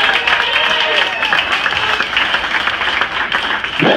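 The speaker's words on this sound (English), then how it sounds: "Clap it up for Red, the school teacher" Crowd at a comedy show at The Starboard in Dewey Beach, Delaware, applauding a school teacher in the audience: dense, steady clapping that fills the room, with a voice briefly cutting in at the end.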